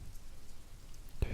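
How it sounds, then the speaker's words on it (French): Steady rain falls in a soft, even hiss with no speech, a constant patter throughout and one sharp louder drop or tap near the end. "Tu entends encore le son de la pluie."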